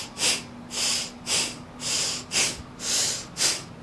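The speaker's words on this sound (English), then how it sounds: "So it's deep inhale and then exhale as if you're blowing your nose." Seven forceful, rhythmic breaths through the nose in Bhastrika pranayama, sharp hissy puffs in a steady pumping pattern, close up and alone.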